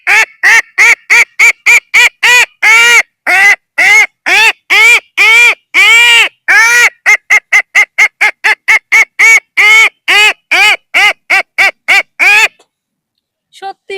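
A boy mimics a myna bird with his voice, a long run of loud, close, rapid nasal honking calls in quick rhythmic bursts, ending after a short pause with a faint trailing note.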